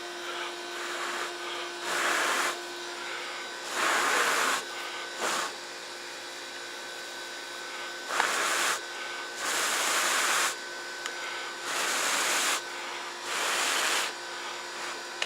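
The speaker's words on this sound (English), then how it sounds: "I want to place that inside my tinder bundle and continue to blow." Repeated breathy blowing into a tinder bundle holding a charcloth ember lit by flint and steel: six or seven long puffs in a steady rhythm, close and fairly loud, with short quiet pauses between them.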